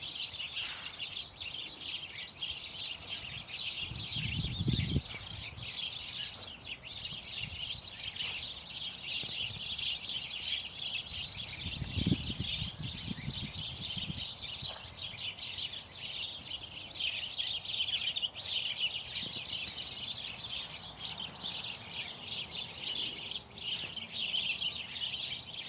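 Backyard birds chirp constantly in a dense, fairly faint chorus, with a few soft low thumps nearby.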